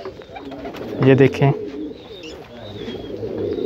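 Purebred pigeons coo softly and steadily in a loft where birds are kept for sale, a low murmur running through the whole stretch while someone speaks briefly near the start.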